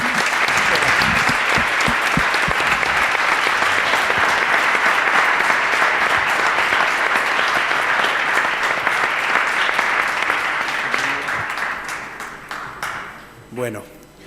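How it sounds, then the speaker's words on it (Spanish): Sustained applause from a conference audience at the close of a long higher-education panel, loud and steady for most of the stretch before tapering off, with a voice starting to speak near the end. "Yo creo que merece un gran aplauso a los organizadores"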